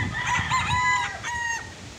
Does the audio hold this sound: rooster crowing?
yes